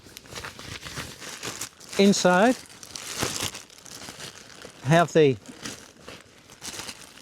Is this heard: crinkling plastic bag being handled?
yes